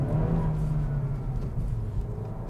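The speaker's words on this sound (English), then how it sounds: "It's the happy rever, like it really does like to rev." A 2023 Acura Integra with a 6-speed manual transmission is being driven, its engine holding a steady, fairly loud revving drone heard from inside the cabin.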